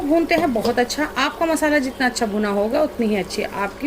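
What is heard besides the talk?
None of the usual background noises is heard.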